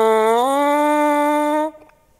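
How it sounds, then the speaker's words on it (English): Lips buzzing through a French horn mouthpiece alone, a loud raspy sustained tone that bends upward at the start, holds steady, then stops abruptly, with no talking. "I make the sound by buzzing my lips through the mouthpiece"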